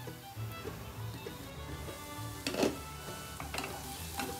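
Onions sizzle in a pan over medium heat while being stirred continuously for a Bengali chicken kosha gravy, a steady soft frying hiss with a few scraping strokes of the spoon, no talking.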